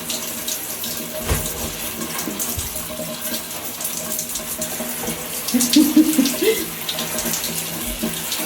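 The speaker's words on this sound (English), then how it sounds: "I just wanted y'all to see him enjoy his shower." Water runs steadily from a shower while a dog is bathed, a continuous close splashing hiss with a brief faint squeaky sound partway through.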